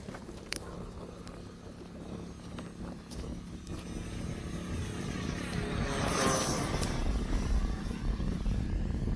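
FMS 800mm P-51D V2 model airplane flying outdoors, its electric propeller drone faint and distant, swelling slightly louder toward the end as it passes, with wind noise and no talking.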